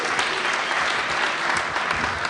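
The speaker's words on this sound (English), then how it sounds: "Yes, you can applaud." Loud, dense applause from a crowd at a local business presentation gathering, continuous clapping filling the room throughout.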